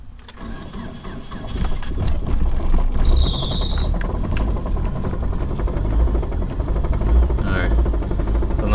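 A car with a Radium Engineering fuel pulse damper cranks and starts after sitting a week, the engine settling into a steady idle with a fast, mechanical ticking and clicking running under the rumble, a short high squeal heard midway.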